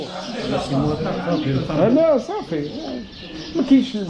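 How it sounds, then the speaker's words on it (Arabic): Pigeons coo and birds chirp in the old medina of Tangier, with soft repeated calls close by, mixed with someone talking and background street noise. "اسمع طيور في قلب المدينة"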